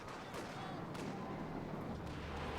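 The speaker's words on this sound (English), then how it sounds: "Katusha fires" Katyusha rocket artillery in Company of Heroes 2 fires a barrage: a rough, rumbling roar punctuated by several sharp launch bursts spread over a few seconds.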